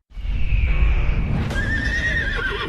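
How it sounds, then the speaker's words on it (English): A horse neighs loudly and close by, a long shrill whinny that rises and wavers, with a faint clip-clop of hooves underneath. "Something very wrong with that horse"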